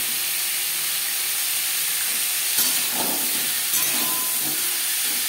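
Papaya curry cooks in a pan over a gas flame, giving a steady loud hiss with a couple of brief scrapes from stirring midway, no talking.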